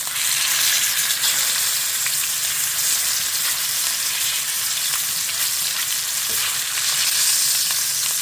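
Rib eye steak fries in olive oil in a hot pan, a loud, dense, unbroken sizzle close by throughout, with no talk.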